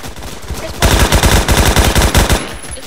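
Rapid assault rifle fire in the Roblox shooter Phantom Forces, loud close bursts of evenly spaced shots that run for about two seconds after a quieter stretch of background game noise.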